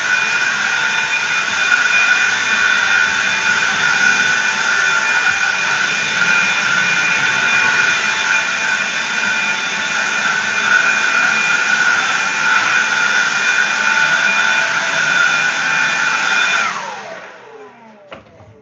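Compressed air blasts sawdust out of a garage woodworking shop in one loud, steady, hissing roar that runs continuously before cutting off and trailing away.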